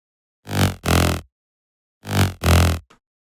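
A synthesizer growl bass using LFO movement and detune fires two pairs of short, thick, buzzing bursts separated by silence, each burst loud and harmonically rich, with a tiny tail at the end.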